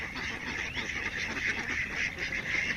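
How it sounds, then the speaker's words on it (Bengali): A flock of ducks quacks continuously outdoors, a dense, steady chorus of overlapping nasal calls at close range. "এই যে দেখেন হাঁস"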